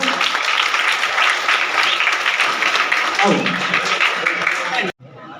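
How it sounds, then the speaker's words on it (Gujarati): Sustained applause from a crowd at a student felicitation ceremony, loud and dense clapping filling the space for several seconds before cutting off abruptly near the end. "જોરદાર તાળીઓથી વધાવો"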